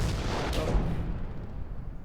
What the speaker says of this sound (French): Et en plus, on a des tirs de mortier.